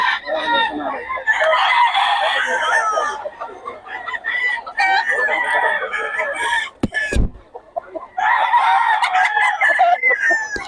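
Several roosters crow in overlapping calls while hens cluck busily nearby, with a brief clatter partway through and occasional voices underneath.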